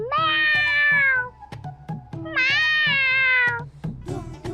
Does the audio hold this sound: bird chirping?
no